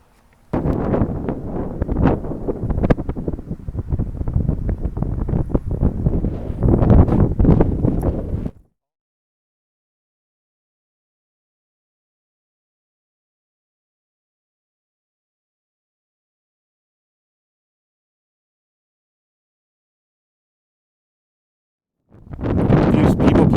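Wind buffets the microphone on a golf course beside Lake Havasu, a loud rumbling gust for about eight seconds, then near silence, before the roar returns at the very end.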